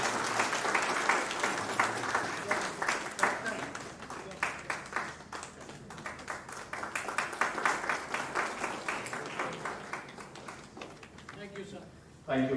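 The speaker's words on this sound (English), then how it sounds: "Can we have a big round of applause for all the fathers?" An audience at a panel on Jesuit education gives a big round of applause for the Jesuit fathers on their feast day: dense, sustained clapping lasting over ten seconds, with speech over it, fading near the end.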